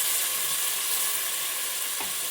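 A ground paste goes into a hot pan for Bangalore-style dal khichdi and sizzles in a dense, even hiss, with a faint stirring knock near the end.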